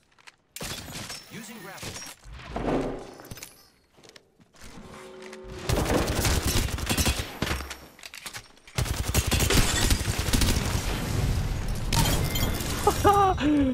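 Gunfire in Apex Legends, a shooter video game, comes in bursts of rapid automatic shots and shattering impacts. Quieter gaps separate long, loud, dense volleys, and a player talks briefly over the fighting.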